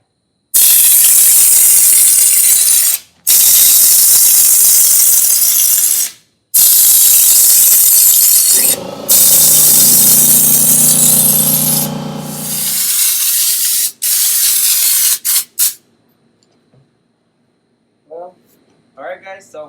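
Spray gun laying a second coat of Raptor bed liner onto a tool box at a lowered 50 PSI, a loud continuous hissing blast broken by short pauses, ending in quiet with faint handling.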